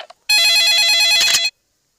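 Telephone ringing in a Peppa Pig cartoon, a single loud electronic trilling ring burst, close and clear, then silence.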